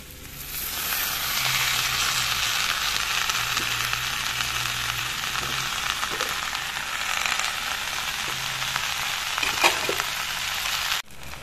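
Ingredients sizzle steadily in a hot pan while being stirred, with a broad continuous frying hiss and occasional soft scraping knocks, close and moderately loud, cut off abruptly near the end.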